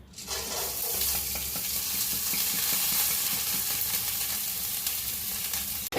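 Moong dal roasting in ghee in a pan for moong dal sheera, a loud, dense sizzle with continuous stirring and scraping, close and unbroken.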